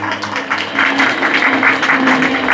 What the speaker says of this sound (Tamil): அதுக்கு ஒரு பலத்த கரகோஷம் கொடுக்கலாம்.